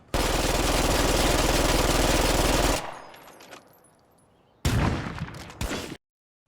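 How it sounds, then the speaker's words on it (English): Automatic gunfire in State of Decay 2 from a weapon fitted with a muzzle brake: a loud, dense, continuous burst of rapid shots for nearly three seconds, a quieter decaying tail, then a second short burst. "I let the gun go full auto"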